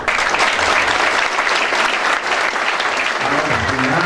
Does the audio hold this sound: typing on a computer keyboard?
no